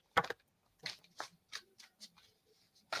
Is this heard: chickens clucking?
no